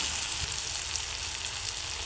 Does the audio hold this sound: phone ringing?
no